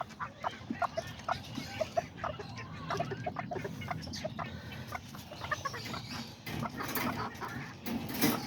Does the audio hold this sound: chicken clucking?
yes